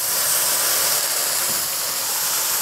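A splash of red wine hits a hot pan of liver and sizzles in a loud, continuous hiss that stays strong and even for a few seconds, no talking over it.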